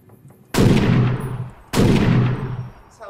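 A Barrett M82 rifle fires in Fallout: New Vegas, two loud, sharp booming shots about a second apart, each followed by a long decaying rumble.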